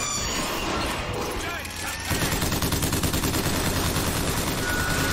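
Automatic gunfire in the video game BioShock Infinite: after a brief lull, a dense, steady stream of rapid shots rattles on loudly and evenly to the end.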